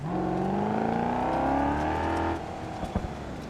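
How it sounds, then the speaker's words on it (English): Car engine in the BeamNG driving game, a steady loud drone with rising harmonics as it accelerates, then cutting to a lower idle rumble after about two seconds, with a couple of brief knocks near the end. "I can hear a car up here."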